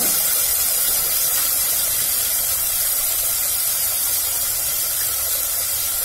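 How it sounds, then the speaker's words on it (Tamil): Chopped onion and tomato with salt sauté in a pan for a bitter gourd tamarind gravy, giving a loud, unbroken sizzling hiss close by. "நல்லா வதக்கிட்டு இருக்கேன்."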